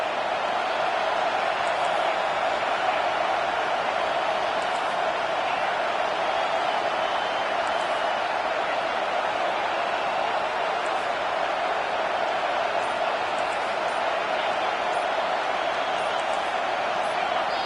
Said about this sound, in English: And with this place rocking, the crowd forces a false start.